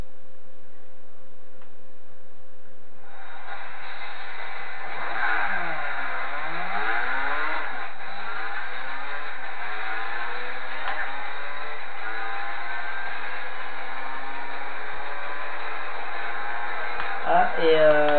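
A Mazda RX8 LM concept with a rotary engine accelerates in Gran Turismo 4 in a buzzing, high-revving whine that starts after three seconds, sweeping up and down through gear changes, with a voice talking faintly underneath.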